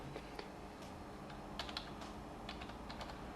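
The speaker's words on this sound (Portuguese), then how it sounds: "vou digitar um texto aqui" Quiet keystrokes on a computer keyboard as text is typed into CorelDRAW, a loose run of soft clicks with uneven pauses, close but faint.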